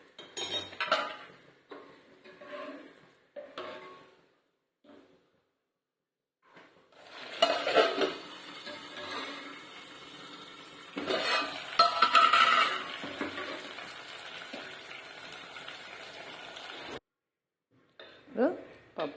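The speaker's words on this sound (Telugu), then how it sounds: "ఇప్పుడు మనం పప్పు అయితే తాలింపు పెట్టుకుందాము." Spices for a tempering of lentil dal crackle in hot oil, with clinks and scrapes of a spoon against the pan in scattered bursts broken by silent gaps, and someone speaks between them.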